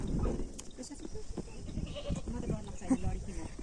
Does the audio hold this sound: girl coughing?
no